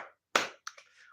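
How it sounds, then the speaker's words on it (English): A single sharp hand clap rings out close and crisp after a short pause, followed by a few faint, soft sounds. "I think I need to clap for that"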